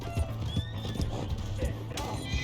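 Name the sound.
horse in video game Red Dead Redemption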